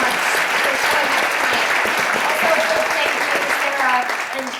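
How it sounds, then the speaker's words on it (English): An audience at a community conversation event claps in sustained, dense applause, loud and close, holding steady for several seconds before easing slightly at the end. "Give yourself a round of applause."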